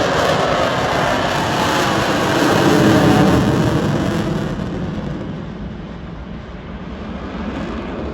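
Fighter jet at an air show lighting its afterburner, a loud sustained roar that swells to a peak and then fades slowly as the aircraft pulls away into the distance.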